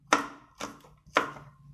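Three crisp knife chops through garlic on a cutting board, evenly spaced about half a second apart, close and clean with no voices.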